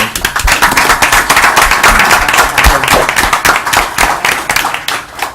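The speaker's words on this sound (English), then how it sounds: "I want a round of applause for all of the officers" A room full of people at a city commission meeting breaks into sustained applause for police officers, dense steady clapping from many hands that fades slightly toward the end.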